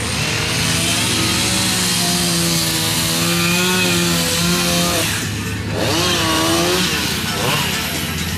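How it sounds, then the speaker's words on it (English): Chainsaws cutting wood at a country fair, a loud continuous revving drone with pitch swings as the engines rise and fall, close by with crowd noise underneath. "they're doing sawing. Let's go see the saws."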